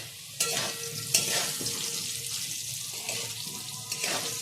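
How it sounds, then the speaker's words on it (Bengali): Potatoes frying in a pan for a home meal give a steady close hiss of sizzling oil, broken by a few sharp clatters of stirring, with no talk. "আলুটা ভাজছি"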